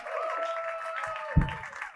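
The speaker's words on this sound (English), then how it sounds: "Don't stop clapping." An audience claps at the Zanies comedy club in Rosemont, a steady wash of applause under sustained walk-on music, with a brief louder thump near the end.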